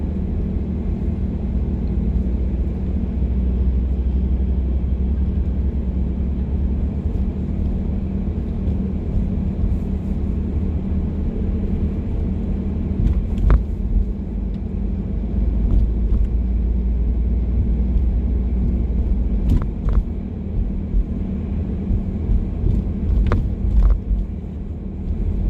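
Slow-moving traffic on a busy Gatlinburg street with uncontrolled crosswalks, a continuous low rumble of engines and passing cars, with a few brief sharp clicks and knocks over the steady drone.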